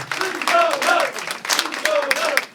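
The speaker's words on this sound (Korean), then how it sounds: "이런 함성이 나와 주셔야 됩니다" A crowd at a party founding rally for the New Future Party cheers and claps, loud shouts rising in waves over continuous applause.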